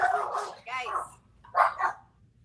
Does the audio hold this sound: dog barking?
yes